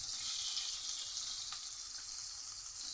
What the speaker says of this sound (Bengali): একসাথে লাল করে ভেজে নেব।